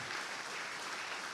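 Audience clapping at a Crossroads 60th anniversary gathering in Phoenix, a steady, dense wash of applause holding evenly throughout, moderately distant and without any voices rising above it.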